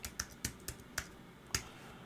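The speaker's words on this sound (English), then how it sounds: "So all I've got to do is type in the word cleanup," Quiet keystrokes on a computer keyboard, six distinct clicks at an uneven typing rhythm, close and isolated against a faint background.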